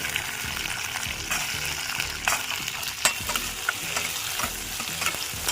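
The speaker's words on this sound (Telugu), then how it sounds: "మెంతులు తర్వాత ఇప్పుడు మనము టమాటాలు వేసేస్తాము" Tomatoes frying in a pan with fenugreek seeds for a radish stew, a steady close sizzle with occasional stirring scrapes and pops throughout, no talking.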